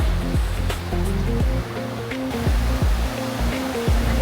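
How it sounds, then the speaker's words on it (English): Sea waves wash onto a summer beach at Frinton-on-Sea in a loud, continuous surf roar that swells and eases without a break. No one speaks. "वेभहरू"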